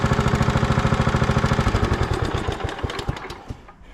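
An old classic John Deere tractor engine without a hood idles with a rapid, even chugging close by, then slows and sputters to a stop as it is switched off; no talking.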